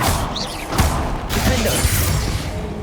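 A Bombarda spell in Hogwarts Legacy sets off a loud crashing blast. Shattering debris and a booming thump follow, set against dense game noise with no talk.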